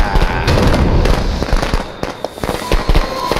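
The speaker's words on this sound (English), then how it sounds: "I'm gonna try the fireworks here." Fireworks crackle and pop in Friday the 13th: The Game at the Jarvis House, a dense, loud burst of rapid bangs and fizzing crackles that thins into scattered snaps near the end.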